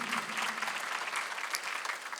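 Worshippers at a Sunday service in a Korean church clap together in a continuous, even round of applause filling the room.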